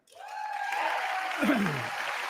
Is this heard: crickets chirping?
no